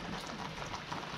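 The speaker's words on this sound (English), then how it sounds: "it's raining pretty good here in North Alabama today" Steady rain falls outdoors on a sunny day in North Alabama, a continuous broadband patter with no gaps, moderately quiet and even throughout with no voices.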